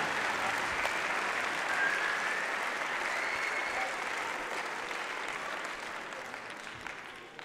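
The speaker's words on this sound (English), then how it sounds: "Les applaudir, les encourager, s'il vous plaît" Sustained applause from the crowd at a mixed doubles badminton match at the French International, a steady, even wash of many hands clapping in a large hall, continuing unbroken for several seconds.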